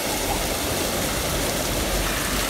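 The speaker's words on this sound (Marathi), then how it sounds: "मॅनमेड फाउंटेन्स जरी हे असले तरीही इथे येणारा हा पाण्याचा खळाळणारा आवाज आपल्या मनाला मोहून टाकणाराच असतो" Man-made fountains in Brunnsparken, Gothenburg, give a steady, even rush of splashing water that fills the whole clip, continuous and close, with no breaks.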